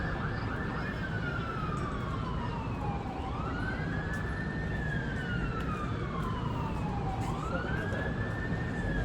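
Emergency vehicle sirens wail from a distance, rising and falling in slow, repeating sweeps over a steady background rumble, with no voices over them.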